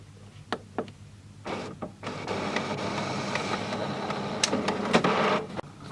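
Mechanical whirring and clicking of a printer running, with sharp ticks and a sustained motor hum building through the middle, fairly close.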